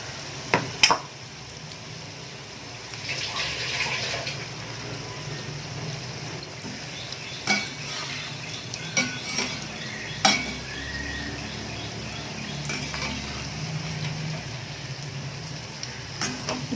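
Veg nethili fry pieces coated in masala sizzle in hot oil with a continuous crackling fry, and sharp spoon and pan clinks stand out now and then over the bubbling.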